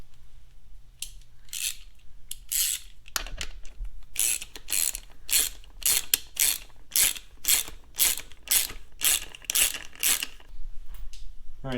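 A ratchet wrench snugging bolts tight during a repair, bursts of fast clicking repeated in steady strokes with short pauses between, close and loud, no talk.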